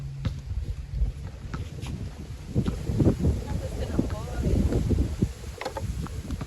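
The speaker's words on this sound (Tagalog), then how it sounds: "Ang lakas ng hangin." Gusty wind buffets the microphone in low rumbling surges, rising and falling, while people talk nearby.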